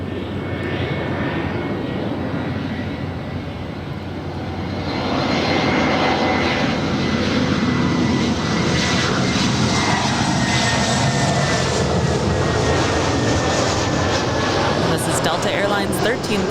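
A jet airliner passes near LAX with a broad, steady engine roar that swells after a few seconds and holds loud and continuous, the rumble filling the whole stretch without any break.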